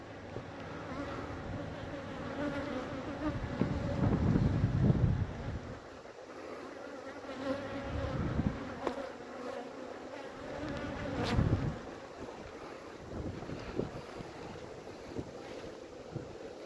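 Honeybees building comb in a hive, a continuous close buzzing hum with wind noise on the microphone and occasional swells, no talk.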